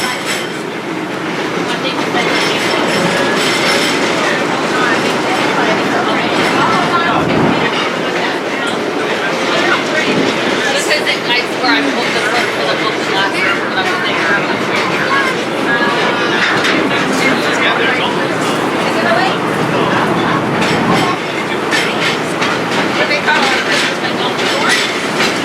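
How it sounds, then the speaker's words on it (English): A Busch Gardens Williamsburg railway train rolls across a long-span trestle, with a continuous rumble and rhythmic clickety-clack of wheels over rails under a steady flow of talk throughout. "As we cross the trestle, please keep your hands, arms, and loved ones inside the train."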